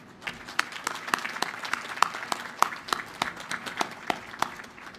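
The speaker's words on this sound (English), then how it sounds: "Could I get a round of applause, please?" Sustained applause from a crowd at the christening ceremony for the USNS Lucy Stone (T-AO 209) navy oiler, many hands clapping densely and steadily throughout, fairly close and even in level.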